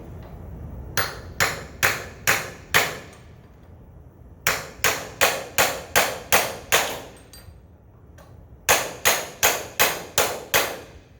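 A hammer strikes a Schwinn bicycle crank to drive out a Morse taper pedal, landing sharp metallic blows in three bursts of five to seven evenly spaced hits, close and loud, with short pauses between the series.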